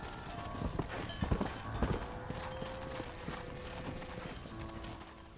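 A horse's hooves clip-clop steadily at a walking pace in the Red Dead Redemption video game, with occasional heavier strikes over a low outdoor ambience and no talk.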